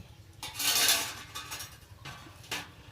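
Sweet potato being stirred into coconut milk in a pot, with bursts of scraping and clinking of a utensil against the pot, a longer swirl early and two shorter strokes later, no voices.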